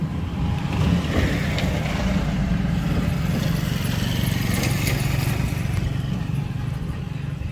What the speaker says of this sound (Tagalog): Paunahin ko muna yung mga sasakyan bago ako.